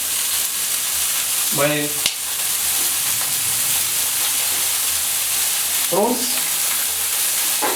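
Cod fillets sear in a hot pan with a steady, close frying sizzle and hiss running throughout, while a person speaks briefly over the cooking noise.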